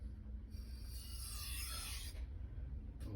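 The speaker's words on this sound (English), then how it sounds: "You just want to push enough to make sure that blade stays flat and level across the stone. You're just rubbing off the burr." Knife blade rubbed back and forth across a sharpening stone to grind off the burr, a steady close gritty rasp that swells and fades over a few seconds with no talking.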